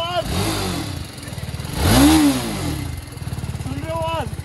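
A 312 cc Apache RR 310 motorcycle engine runs close by with a throaty, pulsing idle. It swells into a sharp rev midway, settles, then climbs again near the end.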